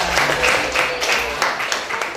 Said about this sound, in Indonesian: Oke, tepuk tangan dulu buat kalian.